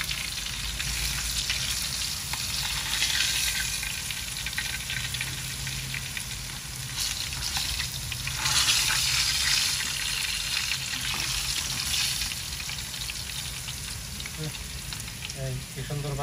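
Hilsa fish fries in hot oil in a kadai, a loud continuous crackling sizzle with watery bubbling and occasional stirring, steady and close throughout.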